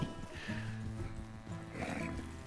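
A horse neighs and whinnies in Red Dead Redemption 2, a loud, wavering call held across most of the moment, with a second rising whinny near the end over faint background game sound.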